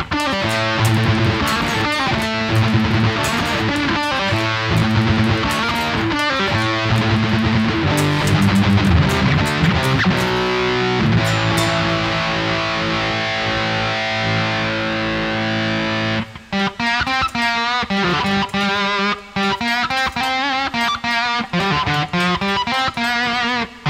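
Electric guitar played through an STL ToneHub amp-sim preset with distortion and reverb, loud and sustained chords and riffs filling the whole stretch, with a brief cleaner ringing passage midway before heavy strummed rhythm resumes.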